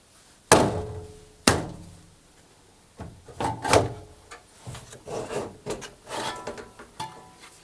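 A Hoover tumble dryer drum assembly being lifted and slid out, with two sharp knocks followed by a series of softer thumps, scrapes and rubbing sounds close by.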